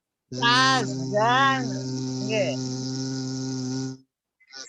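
A voice imitates a bee's buzz, drawing out a long, steady, voiced Arabic letter zai for about four seconds, close and loud, with brief speech-like inflections over the drone before it cuts off.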